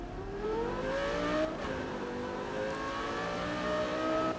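Lamborghini Gallardo LP 570-4 engine in the racing game Need for Speed Rivals, a steady mid-pitched drone that climbs through gears with rising whine, loud and continuous with no talk.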